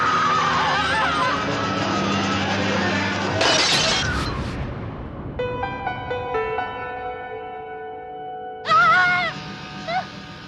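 Horror-film audio: a sharp shattering crash and eerie sustained tones lead into a burst of shrill, high-pitched screaming near the end.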